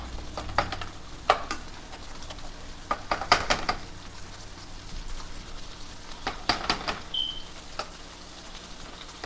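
Chorizo sizzles in a hot pan during Mexican street corn prep, a steady close frying crackle broken by several sharp scraping stirs and utensil clinks against the pan.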